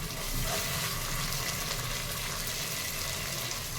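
Ginger garlic paste being stirred into onions frying in a pan for a coconut milk chicken curry, giving a steady close sizzle with soft stirring scrapes throughout.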